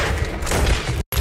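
A gunshot headshot from Red Dead Redemption 2 lands as a loud, close, booming blast with a short rumbling tail that drops abruptly to silence, then resumes.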